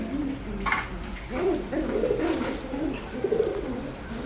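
Several red-marked military pigeons coo in low, rolling phrases, one bird after another, close by at a pigeon market over about four seconds, with a brief sharp chirp early on and no talking.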